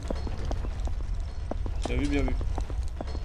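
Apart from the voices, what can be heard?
footsteps in the Backrooms video game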